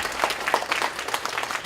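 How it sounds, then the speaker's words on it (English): A round of applause from an audience at a youth mental health talk, a steady patter of many clapping hands at moderate volume, with no voices over it. "Let's give a round of applause for creativity."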